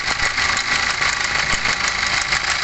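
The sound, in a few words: Hyundai Santa Fe 2014 CRDi diesel engine rattling at idle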